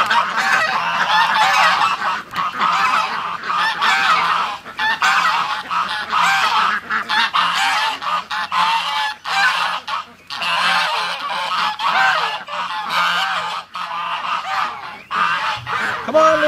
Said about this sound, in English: Oh, ducks. Everybody's rushing me.